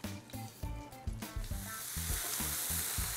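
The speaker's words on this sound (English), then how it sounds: "to brown the rest of the meat, as well as give a little color to the onions and celery that we have here" Meat browns in a hot pan with a steady, loud sizzle, overlaid by repeated low rhythmic clunks and scraping from stirring or handling the pan; no talking.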